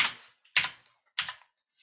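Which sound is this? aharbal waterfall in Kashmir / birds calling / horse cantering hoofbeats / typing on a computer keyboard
typing on a computer keyboard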